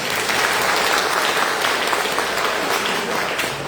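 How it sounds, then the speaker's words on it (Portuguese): Audience applause at a preaching event fills the whole stretch: dense, steady and close, with no talk over it. "Vamos dar um aplauso para ela, né?"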